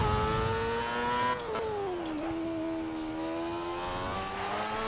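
F1 car engine in a racing video game, a loud, steady high-pitched whine that drops sharply through several quick downshifts, each step a falling pitch, then holds lower before rising again.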